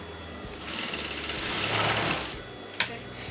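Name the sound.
sewing machine top stitching a kurta neckline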